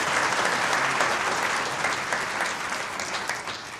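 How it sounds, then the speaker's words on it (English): A crowd applauds bank employees and management at a banknote and coinage launch, with sustained, full clapping from many hands that stays strong throughout and fades only a little near the close. "Let's give our employees and our management a round of applause."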